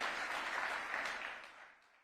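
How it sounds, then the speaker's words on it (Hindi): Audience applause in a hall at a public address by India's Defence Minister, where women in the crowd clap. Broadband clapping stays steady, then fades over about two seconds, with no talk over it. "महिलाओं ने तो ताली बजा दी, लेकिन पुरुषों ने नहीं बजाई।"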